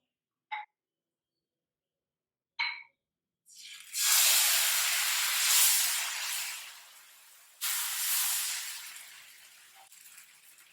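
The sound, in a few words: rava dosa batter poured onto a hot griddle, sizzling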